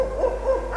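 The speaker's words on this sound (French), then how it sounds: "On peut même entendre un hibou qui lance son cri lugubre là-bas dans les arbres." An owl hoots from the trees at night with a mournful call, three wavering hoots in quick succession, clear and fairly close over a low steady hum.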